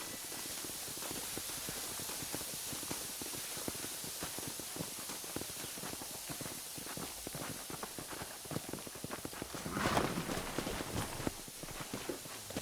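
Steady clip-clop of horse hooves at a quick pace in a video game (Red Dead Redemption remastered), continuous and fairly close, with a brief louder burst near the end.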